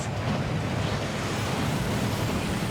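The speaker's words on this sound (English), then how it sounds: "That waterfall washes away all enchantments." A waterfall in the Hogwarts Legacy video game rushes in a steady, dense roar at an even level throughout, with no speech.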